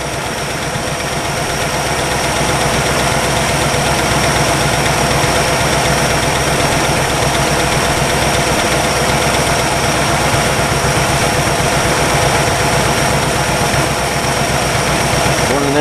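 Engine of a 1962 Chevy parked for 35 years, idling as it warms up after a fresh oil change: a loud, steady, slightly uneven rumble with a constant whirring hum, close by and unbroken throughout.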